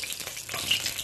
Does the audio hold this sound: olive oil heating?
yes